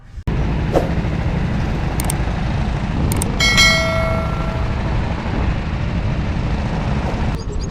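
KA100 racing karts weaving on track to warm their tires before a CalSpeed Super Series grand prix start, their engines a steady close drone with a brief metallic ring partway through.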